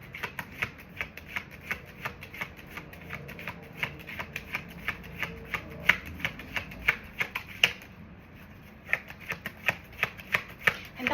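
Tarot cards being shuffled by hand, a brisk run of crisp, close slaps and riffles in an uneven rhythm, with a short pause partway through and no talking.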